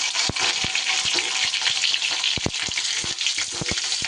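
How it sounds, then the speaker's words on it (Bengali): Pieces of pointed gourd (potol), salted, fry in hot oil in a pan, a close, steady crackling sizzle broken by sharp pops and spatters. "এবার ঢাকা দিয়ে দিয়ে ভালো করে পটলগুলো ভেজে নেব।"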